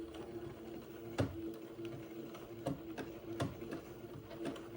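A sewing machine zigzag-stitching insertion lace along scalloped edges of a baby diaper shirt, heard as a steady low mechanical hum with repeated soft clicking ticks spaced irregularly across the stretch, moderately quiet and without talk.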